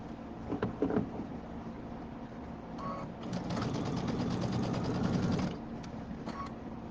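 A sewing machine with an embroidery unit clicks through a few stitches, then runs a rapid, steady mechanical burst for about two seconds before slowing to quiet clicks. The sound is close and moderately soft, with no voices.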